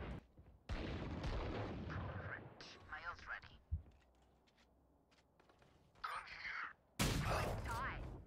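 Sniper rifle in the video game Valorant fires loud, sharp shots that stand out in the mix, with gameplay effects around them and a person talking over the action.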